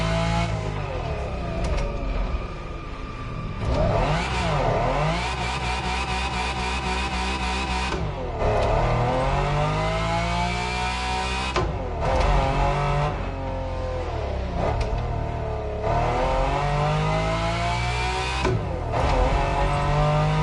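Lamborghini engines roar through a race in the driving game The Crew Motor Fest, loud and continuous with repeated rising revs and gear shifts across the whole stretch.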